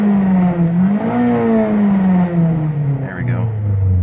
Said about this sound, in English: So I'm going to rev it and try it again.